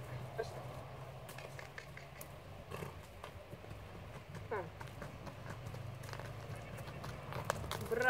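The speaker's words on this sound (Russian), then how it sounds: "вы увидели степенную, невероятную лошадку" A horse walking steadily during a handling or training session, its hooves clip-clopping in an uneven rhythm at moderate distance, under soft background noise and occasional human voices.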